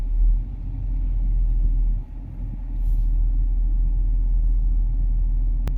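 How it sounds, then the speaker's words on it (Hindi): A car rolls into a shaded parking spot under cover in hot, sunny Saudi Arabia, its engine giving a steady low rumble that dips briefly midway and then holds. No voices are heard. "पार्क हम कर देंगे गाड़ी इधर नीचे ठंडे में"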